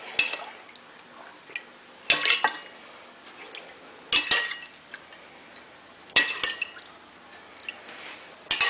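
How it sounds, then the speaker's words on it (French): Raspberry sauce spooned onto a plate for dipping biscuits in a raspberry tiramisu, heard as sharp spoon clinks against the plate recurring about every two seconds, with soft wet drips and scrapes between them and no talking. "on va mettre un petit peu de sauce dans l'assiette pour tremper nos biscuits"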